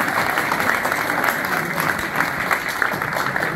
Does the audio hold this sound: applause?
yes